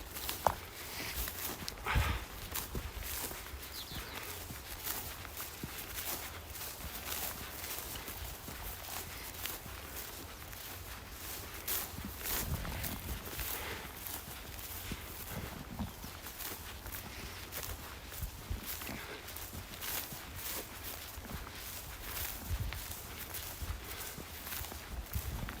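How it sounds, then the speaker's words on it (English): Footsteps walking outdoors in the German countryside, a soft, steady run of close treads over a continuous quiet background. "So tranquil out here. Only hear my footsteps."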